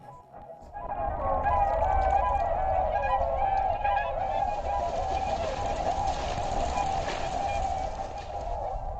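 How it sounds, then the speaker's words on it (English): Tens of thousands of swans crowd the Dalinor Lake shore, their honking calls merging into a dense, continuous chorus that rises quickly and stays loud, with many overlapping voices near and far. "Tens of thousands of swans densely populate the lakeshore"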